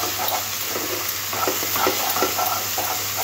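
Spiced baby potatoes being stirred and fried in a pan for a spicy winter aloo dum, giving a steady close sizzle with scattered soft scraping stirs throughout.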